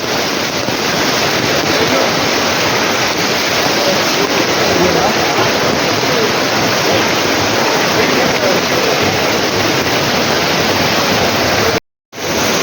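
Floodwater from a monsoon flash flood roars down the Vanimel river in July, a loud, steady, broadband rush with no letup, close and continuous until a brief dropout near the end.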